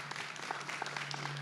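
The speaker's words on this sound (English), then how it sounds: "give yourselves a round of applause" An audience applauds at a Veterans Day ceremony, a steady, even patter of many hands clapping at a moderate distance for a brief moment.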